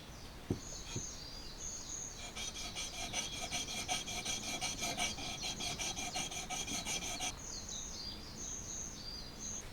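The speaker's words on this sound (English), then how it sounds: "it's a quick and efficient way to set up and set up the proper angle and sharpen my chisels really quickly while I'm working" A chisel sharpened at a workshop sharpening station gives a close, rhythmic back-and-forth rasping that lasts about five seconds, with faint birdsong and light handling noises before and after.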